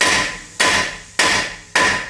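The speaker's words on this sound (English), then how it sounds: "as I'm hitting this with a hammer" Four sharp metallic hammer blows ring out on a car wheel hub at an even pace, each strike followed by a decaying ring, with no voices.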